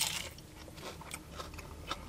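Crunchy bites into a deep-fried potato scallop, a thick potato slice in crispy fish-and-chips batter, come as several close, sharp crackles spread over a couple of seconds with no talking.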